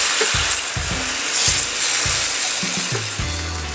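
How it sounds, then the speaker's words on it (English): Takoyaki batter poured into a hot oiled pan makes a steady close sizzle and fry, with soft liquid splashes and stirring knocks scattered through it. No one speaks. "Pour in the mixture."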